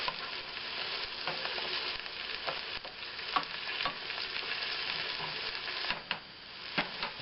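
Food for cowboy-style pork and beans being stirred in a frying pot, continuous soft sizzling with scattered scrapes and clinks of a utensil, fairly quiet and without speech.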